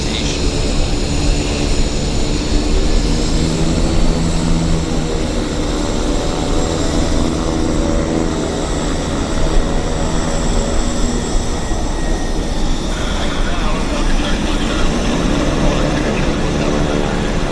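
A Cessna Citation business jet at Vancouver airport gives off a steady, loud engine roar throughout, with a faint murmur of voices underneath.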